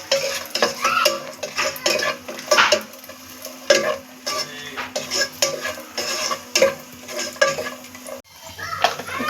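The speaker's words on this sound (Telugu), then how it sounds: "అవి వేగిన తర్వాత ఎండు ద్రాక్ష, ఇవి కూడా దోరగా వేయించుకోవాలి." Raisins fry in a pan for a carrot and beetroot halwa, with a steady soft sizzle under repeated close scraping and clinking of a spoon against the pan. No one talks.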